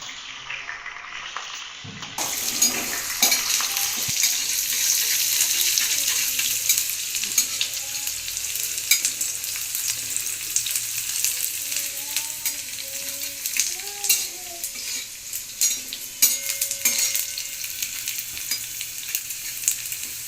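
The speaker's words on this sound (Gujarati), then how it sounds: "જીરું રાઈ ચડી જાય એટલે આપણે અંદર ડુંગળી નાખી દઈશું" Onion drops into hot oil with crackling cumin and mustard seeds for a Gujarati tawa pulao. A quiet start gives way to a loud, steady close sizzle with frequent stirring and scraping.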